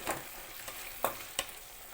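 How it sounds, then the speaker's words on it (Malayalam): A slit green chilli dropped into tomato rice masala frying in a pan, giving a steady close sizzle with a few sharp stirring scrapes and clinks over it. "ഒരു പച്ചമുളക് നടുകെ കീറിയത് നമുക്ക് ഇട്ട് കൊടുക്കാം"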